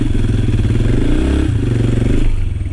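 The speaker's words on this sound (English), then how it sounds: "I was hitting the throttle and the brake at the same time, and the engine really, you could tell it was struggling" A motorcycle engine strains during a wheelie as the rider applies throttle and brake together, a loud, close, rough labouring drone with a pitch dip midway and a clattering edge.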